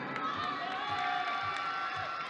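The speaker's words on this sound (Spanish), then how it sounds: "Bien, fuerte el aplauso." Dense, steady crowd noise at a NABBA Mr Mexico bodybuilding contest, the audience applauding and cheering throughout with a continuous broadband wash and scattered claps.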